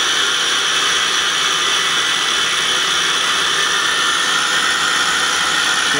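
A KSI SQC-38 CNC Swiss lathe spindle turns at 3,000 RPM, heard close up as a steady, loud mechanical whir with a bright high-pitched whine that holds constant throughout, with no voices.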